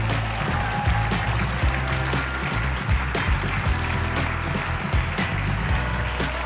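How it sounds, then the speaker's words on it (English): An audience at an awards ceremony claps steadily for several seconds, a dense continuous applause over a low rumbling room background. "More clapping, please."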